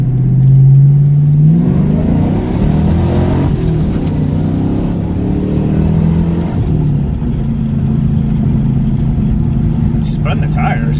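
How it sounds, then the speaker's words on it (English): A Ford Mustang with a 4.6 PI engine accelerates hard, its tone rising then holding steady as the tires spin, with people talking over it. "Spun the tires."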